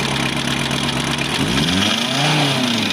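A Volkswagen Transporter van engine idles steadily, then revs up with a rising and falling tone, loud and close, with no talk over it.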